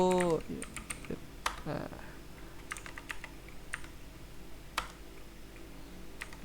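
Data being typed on a computer keyboard, a series of light, quick key clicks in uneven bursts, close by, with a voice speaking briefly at the start.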